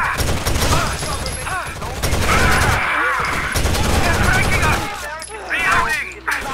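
Rapid gunfire bursts in the Rainbow Six Vegas shooter game, loud and sustained across the clip with a player shouting over the shots.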